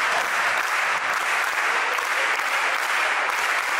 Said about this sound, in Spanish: hacer en cada cabecera de cada provincia la clave cubana con las palmas de la mano